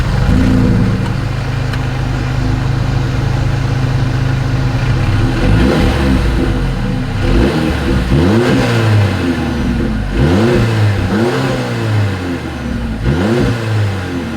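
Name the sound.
2025 Mercedes-Benz CLA 250 exhaust sound, engine revving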